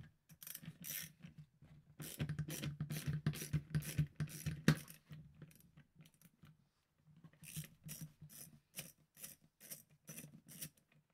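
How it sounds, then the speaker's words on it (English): A ratchet wrench loosens a 10mm bolt on a Shad pannier in two runs of rapid, close clicking with a short quiet gap between them. "So let's start from this 10mm bolt and remove it."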